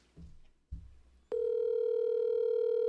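A telephone call goes out: two short low knocks as the handset is picked up, then a steady continuous dial tone that starts abruptly and holds loud and unbroken to the end, with no voices.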